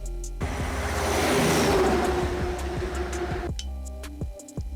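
Vehicle interior rumble from a truck on the road, a steady low drone with broadband road and wind noise that swells and then drops away abruptly near the end.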